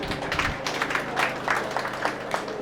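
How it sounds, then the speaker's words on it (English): Audience clapping at a motivational talk, a loose burst of claps rising and falling over a steady hum, with overlapping rhythmic hand strikes from a moderately close crowd. "Can you clap for yourself?"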